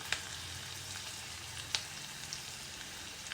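Chili, fenugreek powder and turmeric fry steadily in hot oil in a pan, a continuous soft sizzle with a few sharp pops and crackles standing out.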